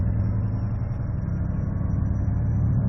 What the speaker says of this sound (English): It was doing an automatic engine brake.